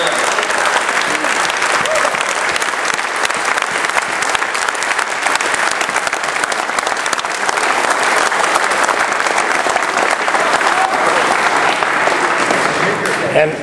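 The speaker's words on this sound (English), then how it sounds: "One huge round of applause for everybody on Team Krebs." A crowd at an awards ceremony claps for Team Krebs, loud sustained applause filling the room from start to finish, with a few scattered voices mixed in.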